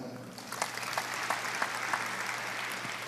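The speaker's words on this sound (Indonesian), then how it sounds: "Tepuk tangan." Congregation applauding during a church sermon, a steady wash of clapping lasting a few seconds with scattered sharper claps, moderately distant and without talk over it.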